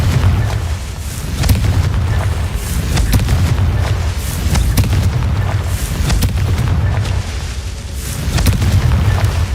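Confringo fire spell blasts in the Hogwarts Legacy video game, a loud continuous rumble of booming explosions with crackling bursts layered throughout, no voices.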